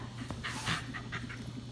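Dog panting and whimpering close up: quick rhythmic panting breaths with a steady low hum behind, and several short high whines breaking through, quiet overall.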